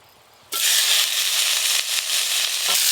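Five-spice and dried chilies dropped into a little hot mustard oil, bursting into a loud, sudden hiss that stays dense and crackling with small pops.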